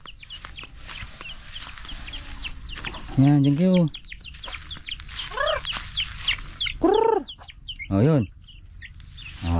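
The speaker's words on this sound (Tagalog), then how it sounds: "may manok na tayo dito mga kapangil" Chickens cluck and squawk nearby in short repeated bursts near a hut, with a person talking quietly between them.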